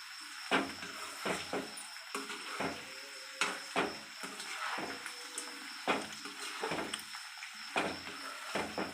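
Curry leaves and other ingredients frying in oil for poha chivda, with soft sizzling under repeated sharp scrapes and clinks of a spoon against the pan, an uneven stirring rhythm close by.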